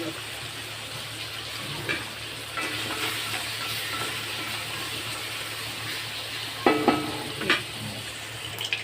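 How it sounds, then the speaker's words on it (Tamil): Mustard seeds splutter in hot oil while a sambar is being made, with faint scattered pops over a steady cooking hiss that grow into a brief cluster of sharper crackles near the end. "கடுகு பொரிஞ்சிச்சு வெங்காயம் போட்டுக்கலாம்"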